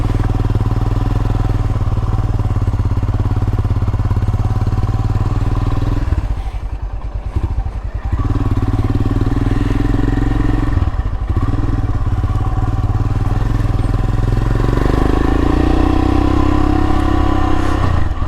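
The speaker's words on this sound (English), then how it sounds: "Probably should let it warm up a little bit more, but I'm gonna go" A 2022 Royal Enfield Himalayan motorcycle fitted with a Hitchcocks carburetor idles loud and close, then pulls away. A dip and brief surges in the engine note follow, and the engine settles into a steady drone with a rising tone near the end.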